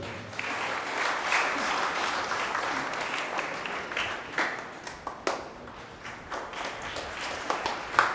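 Loud, sustained applause from an audience at a church farewell ceremony after Holy Mass, clapping steadily for about eight seconds with a few sharper claps standing out near the end.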